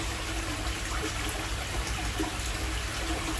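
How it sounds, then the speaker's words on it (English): Water pours steadily from a Bakki shower filter into a koi pond, a continuous close splashing rush with no voices. "absolutely love the Bakki shower"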